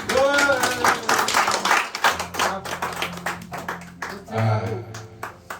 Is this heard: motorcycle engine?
no